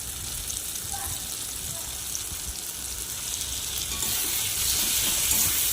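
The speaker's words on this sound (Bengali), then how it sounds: "এবার মশলাটা একটু ভালোভাবে কষিয়ে নেব" Spice paste of softened tomato with cumin and coriander powder fries in a pan for a fish-head and pointed gourd curry, giving a steady broadband sizzle that swells louder toward the end, with no talk over it.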